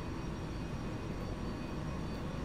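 Boeing 747-400 jet engines climbing in the X-Plane 11 flight simulator produce a constant, dense airliner roar with no changes or voices.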